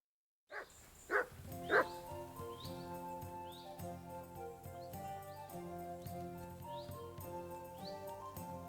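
Mutt the dog in Kingdom Come: Deliverance 2 gives three sharp barks in quick succession, fairly close, followed by quieter yelps over a bed of sustained medieval instrumental music.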